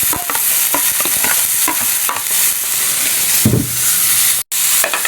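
Bitter gourd sautés in a pan as tomatoes go in, with continuous close sizzling, repeated scraping stirs and a sharp hiss when the tomatoes hit the hot oil.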